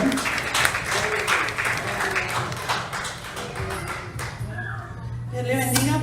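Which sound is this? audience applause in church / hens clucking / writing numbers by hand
audience applause in church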